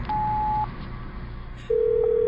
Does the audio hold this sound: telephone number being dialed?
yes